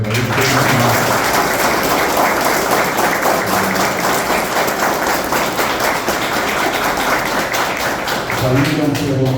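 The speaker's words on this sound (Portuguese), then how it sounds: "eu peço uma salva de palmas para o Evair" Sustained applause at a railway workers' union meeting in Porto Alegre for a departing director, steady crowd clapping throughout with some voices mixed in underneath.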